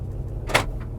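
A 2019 Mercedes G550 door gives a single short, solid thunk at close range, set against a low idling rumble and a quiet mechanical whir.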